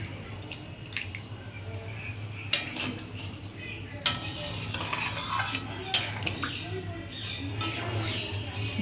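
Bhetki fish head and bone chorchori stirred in a pan after water is added, with a close steady scraping swirl, a soft sizzle and three louder utensil knocks against the pan.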